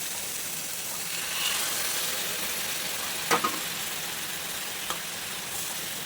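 Hot water poured into a pan of frying spiced potato curry, a steady loud sizzle and hiss with a couple of brief sharp spatters partway through, no voices.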